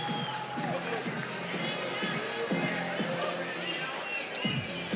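A Saudi arena crowd at a fight event roars and cheers steadily, a broad wash of voices and shouts with a commentator talking over it throughout.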